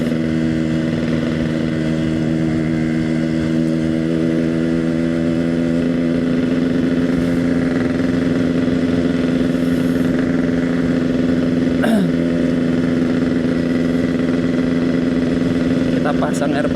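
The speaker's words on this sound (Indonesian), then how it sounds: "Kita pasang RPM sedang guys, seperti biasa menikmati dentungan 2 tak yang sangat" A Yamaha RX King two-stroke motorcycle engine runs steadily at medium revs, a loud, close, buzzing drone with a constant tone and no talk over it.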